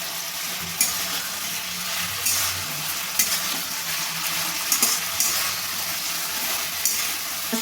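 Fried potatoes stir-fried in soy sauce and tomato sauce for chilli potato give a steady close sizzle, with scraping spatula strokes and a few sharper clatters against the pan throughout.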